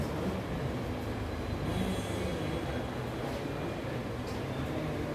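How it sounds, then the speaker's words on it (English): A metro train runs with a steady, loud rumble and wheel noise throughout, heard from inside the car, with faint squeals now and then. "This is not train. This is metro."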